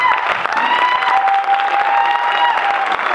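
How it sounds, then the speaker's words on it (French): A concert audience in Brazzaville applauds loudly and steadily after a band's final song, a dense continuous clapping close by with no talk over it. "On applaudit très fort pour eux,"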